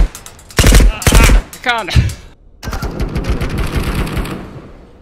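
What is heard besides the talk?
gunfire from an extraction shooter video game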